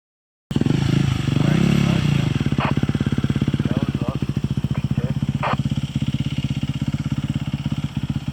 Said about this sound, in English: I just got driven, or got a ride in with the motorbike all the way in